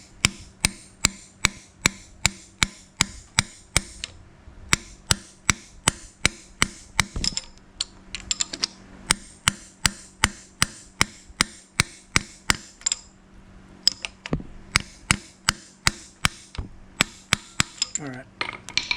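Steady metallic hammer blows drive a seal into the axle tube of a 1959 Willys Jeep CJ-5 Dana 44 rear axle, sharp close strikes in quick regular bursts with brief pauses, ringing bright.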